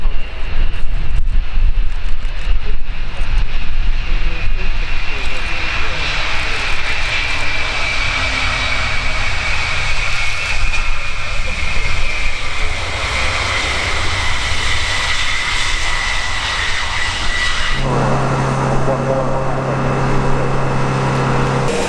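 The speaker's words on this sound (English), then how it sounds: "So to land their Major Gregorius Sinas and his multinational crew with the NATO Boeing E-3A Sentry." NATO Boeing E-3A Sentry jet engines roar loud and close at the RIAT 2019 air show. The dense, continuous roar holds steady throughout, joined by a few brief tones near the end.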